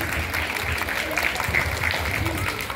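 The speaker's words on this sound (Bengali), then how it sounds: "একটু জোরে করতালি হয়ে যায় ওনাদের জন্য।" Audience applause at an art school's annual function stage program, a dense steady wash of clapping from a crowd that fills the whole moment without pause.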